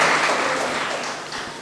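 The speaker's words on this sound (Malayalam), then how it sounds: "പ്ലീസ് എൻ്റെ വകയായിട്ട് നിങ്ങളൊരു കയ്യടി അവർക്ക് തീർച്ചയായിട്ടും കൊടുക്കണം" Audience applause for the hosts at the Vakdevatha Youth Festival 2025 award distribution ceremony, a steady wash of many hands clapping that gradually thins and fades.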